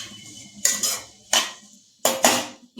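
Two sprigs of curry leaves stirred in a cooking pan, a spoon clattering and scraping against the metal in four short, sharp bursts spaced about half a second to a second apart, close and crisp with no voices.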